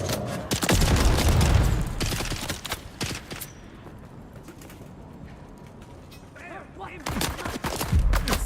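Gunfire in the video game Dune Awakening comes in sharp clustered bursts of cracks and impacts at the start and end, separated by a quieter stretch with faint mechanical clicks and ambience.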